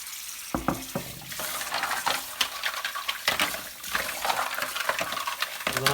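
Mussels are washed by hand in a sink of cold water, the shells clacking and rattling while water sloshes and splashes steadily, close and moderately quiet.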